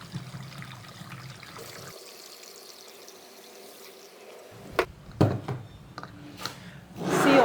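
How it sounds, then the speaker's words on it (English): Kombucha being poured into bottles already holding fruit puree for a second fermentation, a soft trickling stream followed by clinks and a louder rush of liquid toward the end. "we're going to start topping up the rest with our kombucha."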